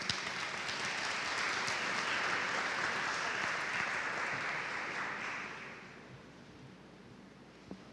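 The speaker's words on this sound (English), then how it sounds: "A round of applause," Applause from a dense crowd at an afternoon session of the Africas Americas Business Forum, a full, sustained clatter for about five seconds that then thins and fades to a low murmur, with a single sharp knock near the end.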